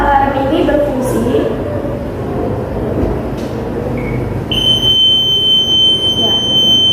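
A simple homemade flood alarm, triggered as water is slowly poured in during a classroom test, sets off a steady high-pitched electronic buzzer tone. The tone starts partway through, loud and continuous, after a stretch of room noise and murmuring voices.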